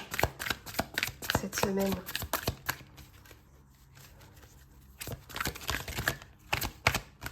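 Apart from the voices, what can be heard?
shuffling tarot cards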